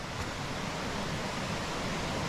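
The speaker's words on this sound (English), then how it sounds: "That's the river" Steady broadband rush of flowing river water in Reelig Glen near Inverness, Scotland, near a muddy bank, a continuous close wash with no distinct splashes.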